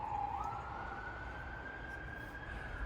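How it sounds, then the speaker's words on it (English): An emergency vehicle siren wails on a mountain road, a steady rising tone heard from a distance under faint background noise. "Sorry for the sirens, folks."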